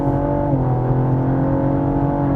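A 2016 Cadillac ATS-V Coupe accelerating hard, its engine holding a loud, steady drone with a slight pitch shift partway through, heard close with no talk over it.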